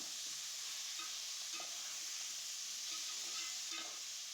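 Tomatoes sautéing in a pan for a Tamil-style dried anchovy (nethili karuvadu) curry, giving a steady, soft sizzle and hiss with occasional faint stirring scrapes, fairly close and without talk.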